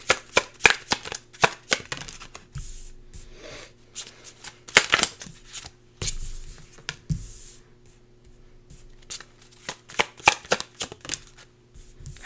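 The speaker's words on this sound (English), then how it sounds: "let me just pull some tarot cards here" Tarot cards being shuffled by hand, with repeated quick riffling and flicking bursts, some in rapid clusters, others spaced apart with brief pauses, close and fairly clear against a quiet room with a faint steady hum.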